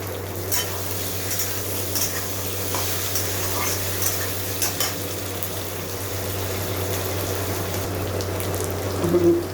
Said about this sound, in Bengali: কাঁচা লঙ্কা কুচিটা দিয়ে দিলাম।